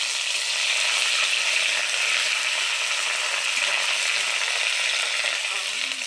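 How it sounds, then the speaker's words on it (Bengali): Ginger going into a pan of frying chicken curry base gives a steady, loud sizzle of hot oil that holds without a break. "এবার দেবে আদরক"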